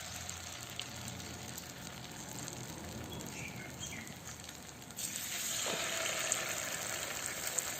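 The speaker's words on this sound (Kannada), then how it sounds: "ನಾನು ಫಿಶ್ ಫ್ರೈ ಮಾಡ್ತೇನೆ" Pieces of anjal, kingfish, frying in hot oil in a pan, a continuous close sizzle that grows louder and fuller partway through, with faint bird chirps in the background.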